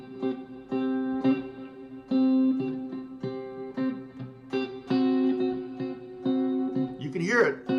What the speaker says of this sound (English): I can play just the guide tones,